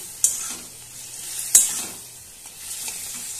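A fig curry with water just added is sautéed in a pan, with a soft steady sizzle broken by a few sharp scrapes and knocks of a spoon stirring against the metal, close and without talk.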